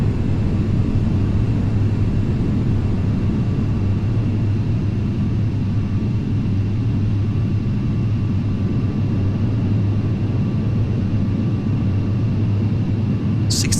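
Aircraft engines roar in a steady, loud, broadband rumble as thrust reversers deploy on landing, continuous and close with no breaks.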